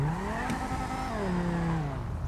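A tuned Mazda RX7 rotary engine in GTA 5 revs and drops, with a whining, buzzy tone that rises and falls in pitch over a couple of seconds, loud and close, with no talking.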